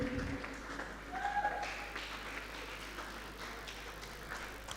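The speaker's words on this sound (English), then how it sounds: "Please keep clapping." An audience claps steadily as a new speaker walks onto the stage at a student tech community event, with the applause spread evenly across the room and faint voices underneath.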